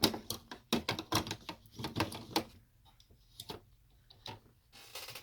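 Embroidery machine stitching a coin purse of vinyl, leather or felt, a quick run of sharp, regular ticking needle strokes that pauses and then picks up again in short bursts, quiet and close, with no talking.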